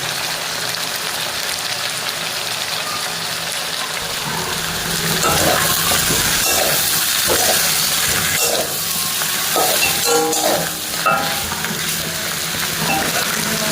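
Chicken cooking down in hot oil in a pan, a steady broadband frying sizzle that grows louder partway through, with occasional stirring knocks and scrapes over it.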